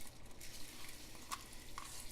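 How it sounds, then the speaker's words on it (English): Rice poured into a pot of broth and beans gives a faint, soft rustle and swish, with a couple of small sharp ticks, quiet and without speech. "I'm gonna add my rice."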